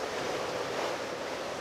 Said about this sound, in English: the boat is flying through the water